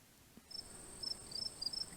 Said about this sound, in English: Put some crickets in there, some cicadas.